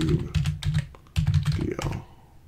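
Fingers type on a computer keyboard in quick clustered clicks, two short bursts of close, crisp keystrokes separated by a brief pause.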